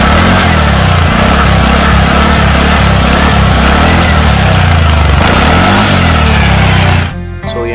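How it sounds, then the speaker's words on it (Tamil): TVS NTORQ 125 BS6 Super Squad Edition scooter engine running steadily at close range, a loud continuous buzzing drone with a rhythmic pulsing beat, cutting out abruptly near the end. "ஸோ இன்ஜின் சவுண்டு வேறு லெவலில் இருக்குது."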